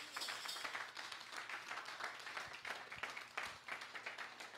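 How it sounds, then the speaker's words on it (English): A church congregation claps for Jesus at a prayer service, a moderate, uneven patter of hands that carries through the moment without a break. "Somebody clap for Jesus."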